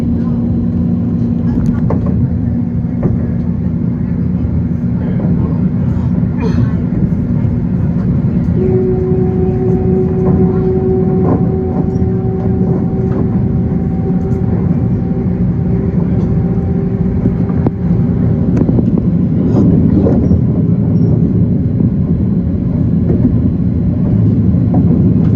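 Interior of a Long Island Rail Road train running from Penn Station to Jamaica, a continuous loud low rumble with steady rolling noise, a faint tonal hum partway through and occasional clicks, unbroken for the whole stretch.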